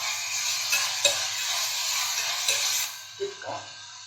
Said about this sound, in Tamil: இதெல்லாம் எண்ணெயிலே வணக்கிடணும்